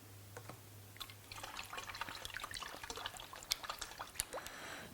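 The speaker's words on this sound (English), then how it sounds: "I needed to add some wheel cleaner to the bottle." Adam's wheel cleaner is poured into a bottle, a faint close trickle and gurgle of liquid with small splashy drips building over a few seconds, no talking.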